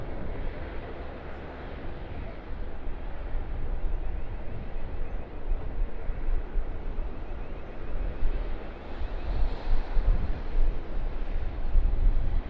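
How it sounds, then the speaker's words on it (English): Wind rumbles and buffets a microphone continuously at Sydney Airport, a dense, loud low roar with gusts swelling and easing throughout. "a little bit of wind moving the camera about as we watch the 737-800 come down to Earth"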